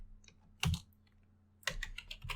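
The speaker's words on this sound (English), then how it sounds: "So we will just type it once again." Quick bursts of key presses on a computer keyboard while writing Python if/else code, two clusters of close, crisp clicks separated by a short pause.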